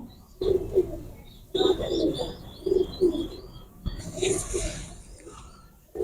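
Golden pigeons coo nearby in repeated low, throaty phrases of two or three notes, with soft chirps and a person's voice briefly in the background.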